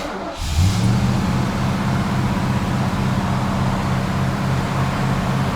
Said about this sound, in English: let's do a cold start on this thing